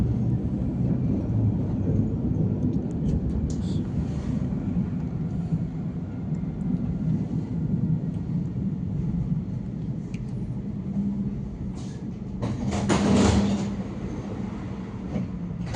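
Interior ride aboard an Alstom Citadis 302 tram on Toulouse line T1, a steady low rumble of wheels and motors with faint rattles and a brief louder burst near the end.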